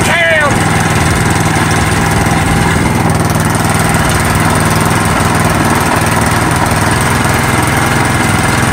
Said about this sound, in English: finally getting the Predator 212 Stage 3, and we're going to do the test fire right now to see what it sounds like